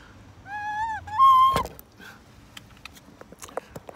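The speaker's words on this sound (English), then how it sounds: "So it's a ceramic flute," A handmade ceramic flute plays a few short whistling tones, a wavering note followed by a higher held pitch, ending in a breathy burst, then faint handling noises.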